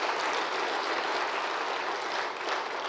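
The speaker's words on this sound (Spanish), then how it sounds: "Denle un aplauso al Señor, Él se lo merece." A church congregation claps together in a steady, dense burst of applause that holds at an even loudness throughout the short stretch.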